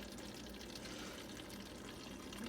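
Cold tap water running into a guinea pig water bottle, a faint, steady splashing flow of liquid that continues evenly throughout with no voices.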